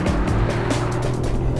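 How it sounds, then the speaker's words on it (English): A Toyota GR Yaris hot hatch engine drones steadily inside the cabin, its sound artificially enhanced through the speakers, a low, continuous hum with no talk. "the engine's voice is artificially enhanced and sent in here to your ears"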